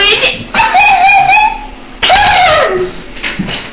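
A dog yips and whimpers in two drawn-out, pitch-sliding bursts close to the microphone, sounding loud and whiny, with people talking around it in a room.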